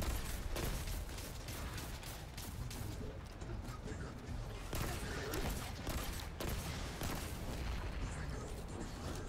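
Rapid, continuous gunfire and heavy explosive booms fill a Destiny 2 firefight, with dense bursts of shots throughout and occasional voices beneath the chaos.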